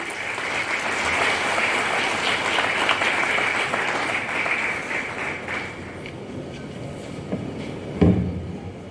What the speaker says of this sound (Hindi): मैडम का जोरदार तालियों से स्वागत करें आप।